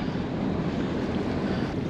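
Motor boat leaving a harbour in Wemeldinge, Netherlands, heard as a loud, steady broadband rush of engine, water and wind noise with no distinct events and no talk.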